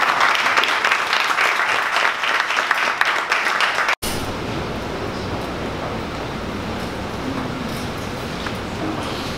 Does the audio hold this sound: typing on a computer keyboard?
no